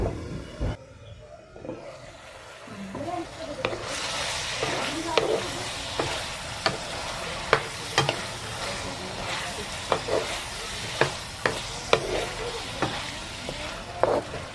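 Pork adobo simmering in its marinade sauce in a covered pan: a steady sizzling hiss with sharp clicks and pops recurring every second or so, close and fairly loud.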